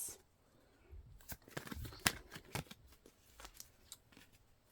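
Tarot cards being shuffled by hand indoors: soft, irregular papery flicks and slaps in short clusters, close and quiet, with no talking.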